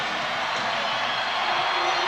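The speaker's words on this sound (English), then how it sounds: "the crowd urging the Knicks on" Basketball arena crowd cheering on the Knicks at home against the Atlanta Hawks, a steady, broad roar of many voices with no breaks, moderately loud and sustained.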